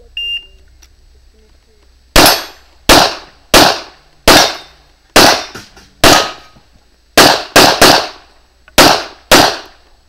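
Pistol shots ring out one after another during a practical shooting competition stage, about ten loud, sharp cracks in uneven rhythm after a shot-timer beep, each with a short outdoor echo.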